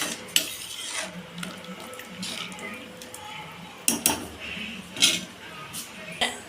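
A spoon scrapes and clinks against a pot while coconut milk rice with salt is stirred, with intermittent metallic knocks and clatter over a soft bubbling background, fairly close.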